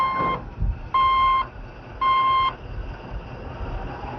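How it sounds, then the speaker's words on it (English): A truck's backup alarm beeps in reverse: three loud, evenly spaced electronic tones, each about half a second, over a low engine rumble. "The backup alarm should sound automatically when the transmission is placed in reverse"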